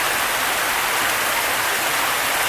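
Heavy rain pours down during a severe thunderstorm in Saginaw, Michigan, a dense, even hiss of falling water that stays loud and unbroken throughout, with no voices.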